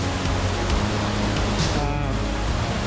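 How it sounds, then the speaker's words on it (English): A winter waterfall in the Oregon backcountry gives a dense, continuous rushing roar heard close by, with a brief breathy sound over it partway through. "But wow, look at this waterfall"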